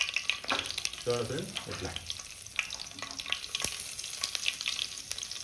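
Crushed garlic and tempering seeds fry in hot oil in a pan, giving a steady crackling sizzle with occasional sharp pops, while a person briefly speaks over it.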